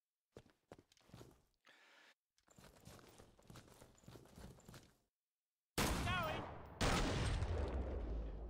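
Gunfire from the video game Killing Floor 2, loud dense bursts arriving in the last few seconds after a stretch of quieter footsteps and game sounds.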